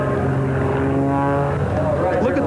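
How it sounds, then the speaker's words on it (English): A propeller aerobatic airplane performing at the 1993 Oshkosh airshow, its engine droning steadily and loudly with shifting pitch as it tumbles and recovers, with a voice talking over it. "The airplane tumbles nose over tail as she recovers."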